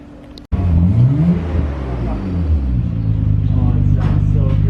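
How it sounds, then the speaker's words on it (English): A Nissan GTR on a Mudori Endless build idles and revs with a deep, steady rumble close by, its engine tone rising and falling as people talk over it. "It's a nice rumble,"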